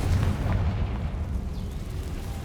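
Confringo fire spell in Hogwarts Legacy, a deep rumbling blast that fades into a low, sustained roar, fairly loud with no talk.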